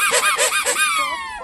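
A squeezable toy parrot gives several quick honking squeaks in a bouncy rhythm, then one longer drawn-out squeal as it is released, loud and close with no talking.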